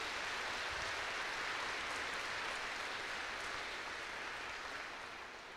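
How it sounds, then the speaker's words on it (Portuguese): Audience applause in a church during a sermon, a steady dense wash of many hands clapping, moderately distant, slowly fading toward the end with no talk over it. "Pode aplaudir"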